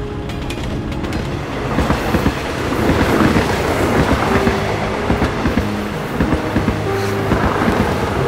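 Passing train heard as a loud, close, continuous rumbling roar with rhythmic clattering of wheels over rail joints throughout, with no talk.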